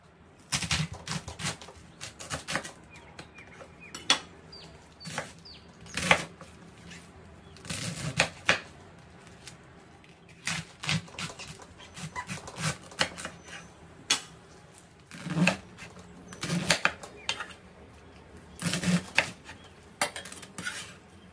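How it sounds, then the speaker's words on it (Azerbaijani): A knife chops cabbage for pickling on a board, making repeated sharp taps and knocks. The quick bursts come in uneven clusters and continue steadily throughout, with no talk. "Və mən kələmi doğramağa davam edirəm."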